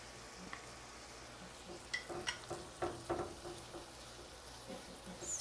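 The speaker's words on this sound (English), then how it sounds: "Stir it all in there." Sugar and cinnamon are stirred into a cooking apple mixture, giving soft scraping strokes over a faint, steady sizzle, quiet and close.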